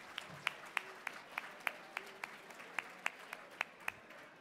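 At an evening celebration and fundraiser, a handful of people clap in a sparse, fairly regular beat. The separate sharp claps sound somewhat distant and quiet over a low room hum.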